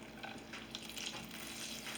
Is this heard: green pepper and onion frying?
yes